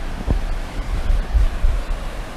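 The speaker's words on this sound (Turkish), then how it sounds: "Gölgenin altında suyun sesini dinle." Flowing water on Yumru Mountain, a steady broadband rush with low rumbling surges, close and continuous, with gusts of wind mixed in and no voices.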